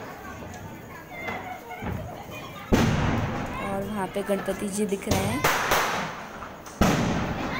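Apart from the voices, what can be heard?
fireworks and firecrackers outside during Diwali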